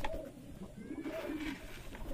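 Racer and Giribaz pigeons in a pigeon house, cooing softly and steadily at close range over a faint room background, with occasional wing rustles and no talking.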